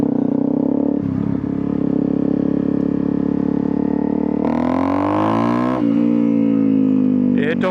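A Honda CRF250L motorcycle engine labours in first gear, a steady low drone that rises in pitch mid-way as revs climb, then drops back and surges again near the end, close and loud.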